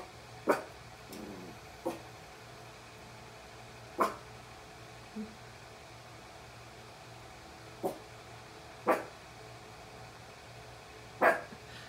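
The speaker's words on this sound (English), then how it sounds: "Are you barking at the mirror?" A dog barks at its own reflection in a mirror indoors: about eight sharp, close barks and yips come in irregular single bursts separated by pauses of quiet room hum.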